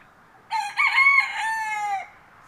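A rooster on a farm crows once, close and loud, a single drawn-out cock-a-doodle-doo lasting about a second and a half over quiet background, with no talk.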